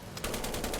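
A short burst from a Besa machine gun on a British tank in War Thunder, rapid evenly spaced shots firing in quick succession, fairly loud with no talk.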